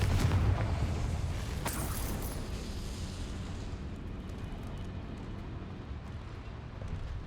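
In the video game Hogwarts Legacy, the Confringo fire spell sets off an explosion: a loud, close boom that fades into a long rumbling tail.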